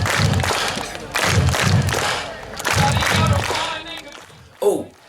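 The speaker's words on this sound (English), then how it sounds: "But first, a little burst of We Will Rock You." An arena crowd plays out the We Will Rock You beat at a Kedington event, with heavy double stomps followed by claps repeated several times amid crowd noise, then a brief final thump.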